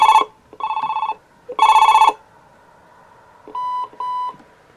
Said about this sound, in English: the beep beep out of there sounds just about absolutely identical to the beeps on the Panasonic answering machines